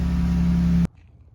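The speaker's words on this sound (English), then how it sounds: "Then you'll start the vehicle. I'm going to let it idle for about 10 to 15 seconds" A Jeep Wrangler JK with the 3.6-liter engine idles steadily just after an oil change, a loud, even hum that cuts off abruptly partway through.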